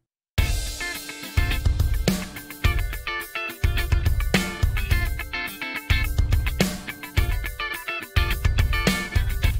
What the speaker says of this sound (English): here is the same guitar part, but now we've included a drum beat instead